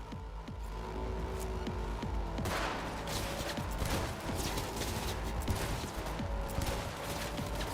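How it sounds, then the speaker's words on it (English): Revolver gunfire from a car window in the video game Cyberpunk 2077, heavy shots cracking repeatedly over a continuous engine drone and road rumble, dense and loud throughout. "That is a beefy sounding revolver."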